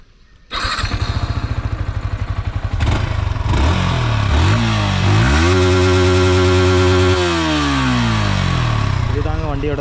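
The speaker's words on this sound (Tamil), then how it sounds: "ஸோ வண்டியோட எக்ஸாஸ்ட் நோட் கேட்கலாம் நம்ம இப்போ." Yamaha R15M 155cc sport motorcycle, 2025 Monster Energy Edition, starting up close by, then revving repeatedly with rising and falling engine pitch and a sustained high rev before dropping back toward idle.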